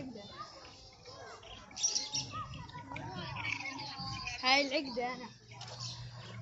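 A large, pricey bird chirps and calls in a Saudi Arabian zoo aviary, its short tweets rising over nearly constant nearby voices, with children audible in the background.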